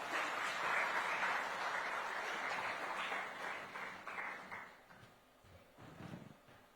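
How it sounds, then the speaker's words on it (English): A lecture-hall audience at a talk on India-made sanitary pads breaks into dense applause, sustained and fairly even at first and thinning into scattered claps toward the end, heard at a distance and fairly quiet. "A huge round of applause once more for India's Menstrual Man."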